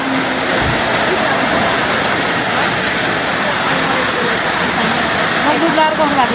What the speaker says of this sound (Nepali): पानी पर्यो गाइस पानी पर्यो